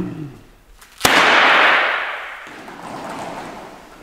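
Confetti cannon firing yellow and black paper streamers at a carnival-style test, one sharp loud bang followed by a rushing hiss of scattering paper that slowly fades, after a voice counts down.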